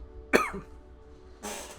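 One quick cough, close and fairly quiet, followed by a pause and then a burst of breathy noise.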